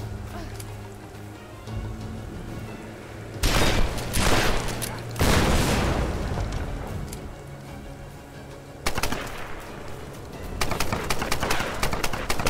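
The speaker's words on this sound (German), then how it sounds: "Da schießt jemand auf mich." Gunfire crackles in Tomb Raider 2013 multiplayer: bursts of rapid shots and impacts over game ambience with bird-like background calls, loud in several clusters.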